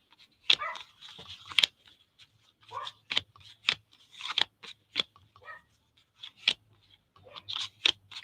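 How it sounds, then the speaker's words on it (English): A dog barking at the mailman indoors, sharp repeated barks in irregular bursts, moderately distant and fairly faint, with a low hum underneath. "Dog's going nuts at the mailman."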